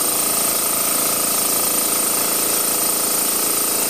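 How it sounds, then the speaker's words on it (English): A steam engine running at full throttle at about 20 PSI, building up pressure, gives a loud, steady, dense mechanical clatter with rapid even pulsing and a constant high hiss throughout, with no voices. "it's full throttle, and the engine's running, and it's building up pressure"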